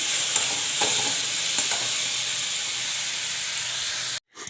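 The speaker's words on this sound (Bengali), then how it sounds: "আলু আর টমেটো দিয়ে ভাজতে বসিয়েছি।" Potatoes and tomatoes frying in a pan at home, a steady loud sizzle and hiss with faint stirring taps, cutting off abruptly near the end.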